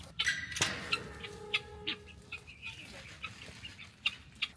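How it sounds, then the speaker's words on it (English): Several short clucks and bird calls from chickens, scattered and fairly close, with a brief louder squawk near the start over a low outdoor rumble. "But I am going to feed my chickens."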